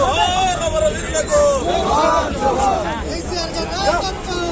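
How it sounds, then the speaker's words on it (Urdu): TRS party leaders at a mayoral election celebration, a dense crowd chanting and shouting slogans together, loud and continuous, with overlapping voices. "اس موقع پر ٹی آر ایس پارٹی قائدین پرجوش نعرے لگا رہے تھے۔"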